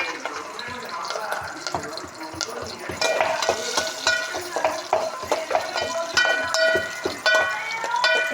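Mustard seeds, green chillies and onion fry in hot oil, a busy sizzle with rapid popping and crackling from the seeds and repeated clinks of a spoon stirring, close and fairly loud.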